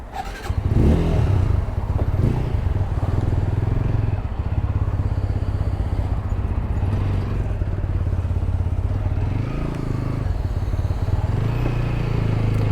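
A new motorcycle's engine starts and runs during a ride, a steady loud rumbling drone close by with slight rises and falls in revs and wind buffeting throughout.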